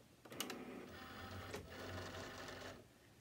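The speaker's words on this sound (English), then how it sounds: "I'm going to put my mat in my Cricut because it tells me to." A Cricut cutting machine draws in its cutting mat with a faint mechanical whirring and a couple of soft clicks, steady for about three seconds, heard alone without speech.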